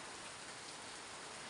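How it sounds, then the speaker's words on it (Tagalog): Heavy rain pours down during Typhoon Kristine, a dense, steady hiss of downpour filling the whole moment with no pause or voices. "lakas po ng ulan"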